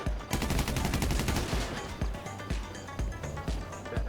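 Gunfire in the video game GTA V Online, opening with a rapid automatic burst and then repeated sharp single and double shots at irregular intervals, loud and close.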